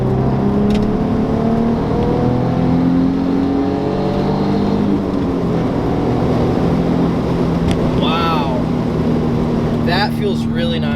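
A Nissan G35 / 350Z accelerates hard, its engine note climbing in a sustained close-up whine and rumble from inside the car, with a voice talking over it.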